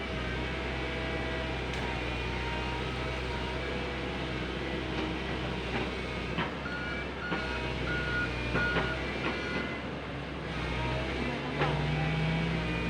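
Komatsu PC130 excavator reversing beeps during land grading and road work, repeated steady tones over a continuous low engine rumble, with occasional talk nearby.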